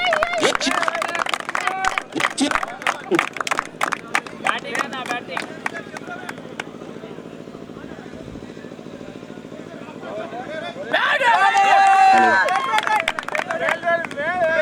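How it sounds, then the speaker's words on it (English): A crowd at a cricket tournament final claps in bursts of quick, uneven hand claps over the first few seconds, then thins out, leaving a loudspeaker voice and background noise of the ground. "Encourage everyone by giving claps."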